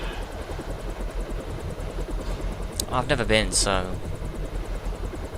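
Steady helicopter rotor drone from the video game Deus Ex: Revision, loud and continuous, with a voice speaking briefly over it midway.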